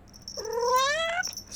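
A pet cat gives one drawn-out meow, clear and fairly close, rising then falling in pitch over about a second, alone against a quiet room.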